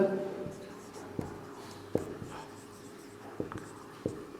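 Chalk or marker writing on a classroom board comes through as faint, sparse taps and short strokes, with a low steady hum underneath and quiet moments between the strokes.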